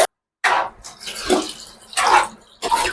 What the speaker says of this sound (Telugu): ఎన్ని గ్లాసెస్ ఆఫ్ వాటర్ తీసుకుంటున్నారో అన్ని వాటర్ వేసేసుకొని మూత పెట్టేసుకుంటే సరిపోతుంది